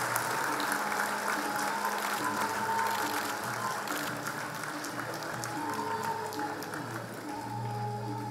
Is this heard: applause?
yes